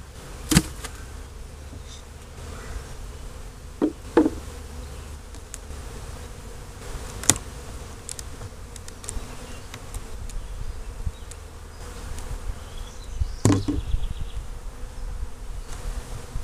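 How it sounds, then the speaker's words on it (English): Bees buzz steadily all around an opened 18-frame long hive, a dense humming swarm with a few sharp knocks and clicks scattered through it. "Quite a few bees and"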